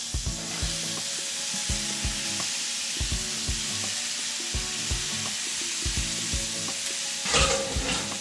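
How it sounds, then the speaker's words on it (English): Vegetables sizzle and crackle steadily in an oiled grill pan, with repeated rhythmic scraping and stirring scrapes over the hiss and a louder clatter near the end. "I'm gonna be quiet while I add these vegetables, so hopefully we can hear a sizzle."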